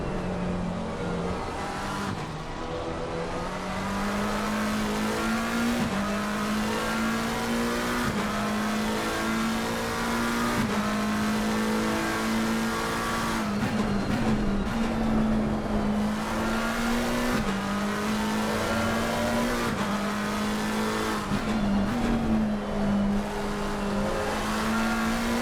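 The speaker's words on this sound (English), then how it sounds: "being in a 4-litre twin-turbo supercar barreling around a" A 4-litre twin-turbo supercar races around Zolder in a sim racing game, its engine droning steadily and loudly with gear-shift pitch changes and revving swells throughout, no voices.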